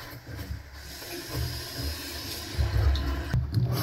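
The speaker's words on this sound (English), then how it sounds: "so we can hear running water, which is great" Water runs through a reconnected pipe in a house under repair, a continuous hissing flow with low rumbling that grows louder toward the end.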